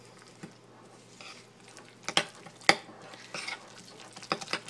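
A garlic-heavy mix seasoned with Tony's seasoning is stirred in a bowl, giving soft wet scraping with a few sharp clinks of utensil against the dish at irregular intervals, close by with no talking.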